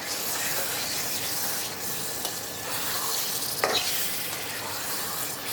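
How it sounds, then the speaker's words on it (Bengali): Strained pickle masala is stir-fried in hot oil in a pan, producing a dense, steady sizzle and spitting hiss. A faint scrape of stirring and one sharper clack from the utensil come near the end. "এটা আর একটু কষিয়ে নিই।"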